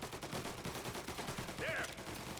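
Rapid gunfire in a street fight in Mafia: Definitive Edition, a steady stream of close shots over the whole moment with a faint shout partway through.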